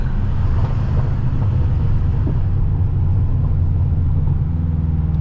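A tuned 800HP BMW M6 pulls along the FDR in New York City traffic, its engine a loud, steady low rumble from inside the cabin, with turbo spool faintly rising over the drone.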